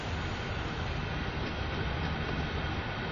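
A commuter train in Train Sim World 2 rolls over junction frogs on the Peninsula Corridor, heard as a loud, steady, close rumble of wheels on track with no distinct separate clacks.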